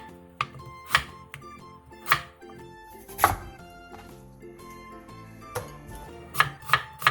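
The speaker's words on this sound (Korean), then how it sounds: "무를 1cm 정도 두께의 반달 모양으로 잘라준 뒤 다시 반으로 잘라주세요" A knife cutting radish into thick half-moon slices on a cutting board, sharp separate chops with uneven gaps, close and clear, with no voices.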